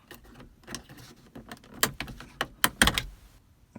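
Several sharp plastic clicks and snaps, close and fairly loud, as a screwdriver pries the map light cover off a Honda Pilot's overhead console, with softer handling rustles between the pops.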